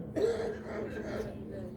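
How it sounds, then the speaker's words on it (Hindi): A single short cough near the start, followed by low background murmur and room noise during an evening religious discourse. "मोबाइल नहीं है, खांसी आ रही है।"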